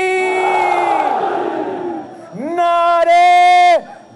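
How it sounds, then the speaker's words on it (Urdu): Rally crowd in Skardu chanting political slogans for Bhutto at a Bilawal Bhutto Zardari gathering: a loud mass of voices roaring together, then a second sustained chant swelling up strongly near the end. "نعرے بھٹو"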